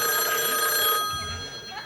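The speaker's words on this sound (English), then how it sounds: "The phone rang." An old telephone bell rings at headquarters in a mid-1970s sketch-comedy setting, a steady ringing tone that fills the first second and then fades into faint room noise.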